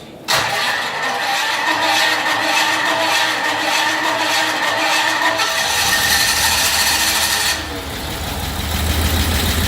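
A V8 engine powering a four-axis CNC machine cranks and catches almost at once, then runs loud and steady with a rough idle before the pitch shifts and settles lower near the end.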